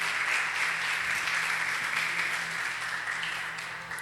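Steady applause from a church congregation at a youth worship service, a dense wash of many hands clapping at even loudness that tapers slightly near the end.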